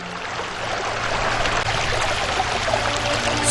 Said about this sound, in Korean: 압록강의 소연한 물소리